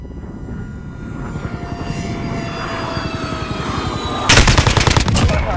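Rapid automatic gunfire bursts in the Modern Warfare video game, loud and continuous over a droning aircraft engine, with a heavier, sharper volley cutting in near the end.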